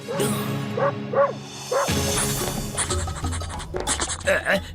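A cartoon dog from Motu Patlu gives a few short barks in the first couple of seconds, followed by scratchy scuffling noises, all mixed with cartoon voices and sound effects.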